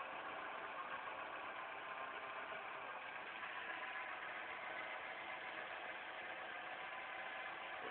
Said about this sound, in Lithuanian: Daugiau pasireiškia per, girdisi tiksliau per išmetamą vamzdį, bet variklis dirba netolygiai.